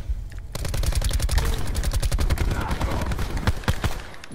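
Rapid gunfire in the Black Ops 4 video game, sniper rifle and other weapons cracking in dense, sharp repeated bursts at close range, loud and continuous across the clip with faint talk mixed underneath.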